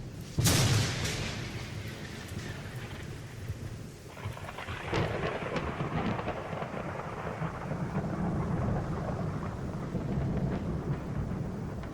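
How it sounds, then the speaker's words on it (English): Loud rolling thunder in a storm, with a sharp crack near the start followed by sustained rumbling and steady rain, standing alone with no voice over it. "The sky flashed with blinding lightning and thunder so loud that it was deafening"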